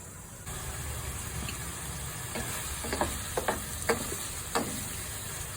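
Shrimp for pancit palabok cook in a covered pan with a soft, steady background sizzle, punctuated by a few brief sharp pops and clicks, faint and close with no talking.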